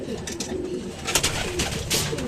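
Racing pigeons coo softly at close range, a few low murmuring calls mixed with light fluttering and shuffling noises in a loft.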